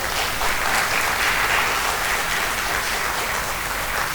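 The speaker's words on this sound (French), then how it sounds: "S'il vous plaît, encore applaudissons pour eux" A theatre audience gives sustained applause for the performing artists at an awareness event about mining in Guinea, dense and even clapping close by that holds steady throughout.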